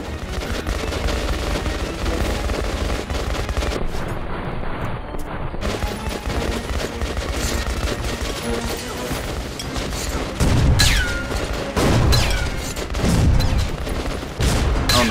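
Sustained gunfire in the video game Metro Last Light, dense bursts of automatic shots and heavy booming impacts, loud and continuous throughout a chaotic firefight.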